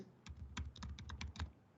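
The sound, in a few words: typing on a computer keyboard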